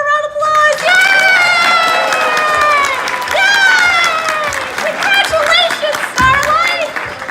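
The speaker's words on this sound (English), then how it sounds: "Everyone give her a round of applause!" Crowd applause and cheering from a convention audience at a pony-themed court skit, clapping under loud, high-pitched character voices talking and exclaiming excitedly throughout.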